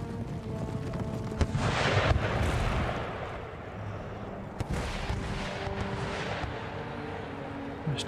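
Artillery fire in the Empire: Total War strategy game, heard as a series of deep booms and cannon shots, some sharp and some rumbling, scattered over dense battle noise.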